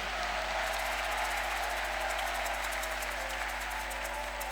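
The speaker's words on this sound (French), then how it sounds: "Et nous acclamons très fort pour le Seigneur." A church congregation cheers and applauds in praise during a French-language prophetic intercession service, producing a steady, dense wash of clapping and crowd noise that stays fairly constant and moderately distant throughout.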